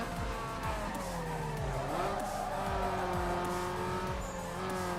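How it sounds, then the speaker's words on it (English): An upgraded car in Need for Speed Underground 2 roars continuously as its engine revs and shifts, with tires squealing through a drift, loud and sustained, with no talking. "the car, it sounds so good as well when you finally get more of the upgrades for it"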